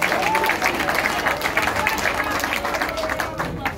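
An audience applauds the culture minister at an event with artists and actors. The clapping is sustained and fairly loud, and a voice talks over it.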